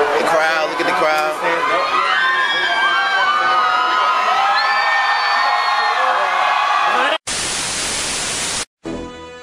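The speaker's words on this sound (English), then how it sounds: "Look at the crowd." A live concert crowd at the House of Blues in Atlantic City cheers and shouts loudly and continuously, dense and close, with voices talking over it, cutting to a harsh burst of static near the end.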